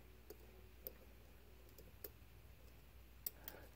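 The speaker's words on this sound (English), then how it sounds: "That was a little click from 3, I believe." Faint clicks from a dimple lock as its pins set during lock picking, a handful of tiny, sparse metallic ticks spaced irregularly over a quiet background.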